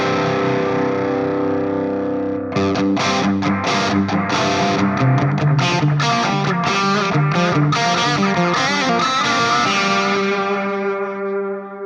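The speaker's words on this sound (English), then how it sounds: "let's switch over to channel B of the reverb and we'll add the plate reverb. Let's go for medium plate." Distorted electric guitar played through a Fractal FM3 modeler with a medium plate reverb, loud strummed chords and riffs after a brief quiet start, ringing out into a smooth reverb tail at the end.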